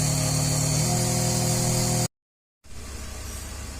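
A 2004 BMW 325xi with a lean misfire idles with a hydraulic cap sealing a hole in the intake manifold, a steady, close mechanical hum broken by a short silent cut before resuming more quietly.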